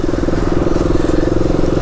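A KTM Duke 250 motorcycle engine drones loudly and steadily up close while riding through early morning traffic, with a rough, throbbing rumble and wind noise throughout.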